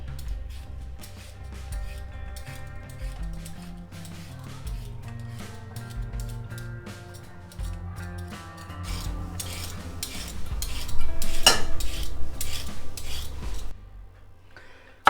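Sweet potatoes being peeled, with repeated light scraping and rubbing strokes against the skin alongside intermittent clinks of a metal utensil, close and steady, with no talk.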